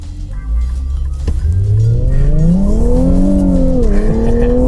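A 2018 Infiniti Q50 Red Sport 400 accelerates hard under power, its engine note climbing loudly through the revs with a brief dip at a shift before rising again, close and dominant throughout.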